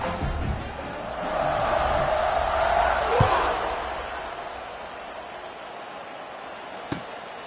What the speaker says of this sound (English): Kickoff unit is out there again, and this crowd is feeling themselves after that last drive.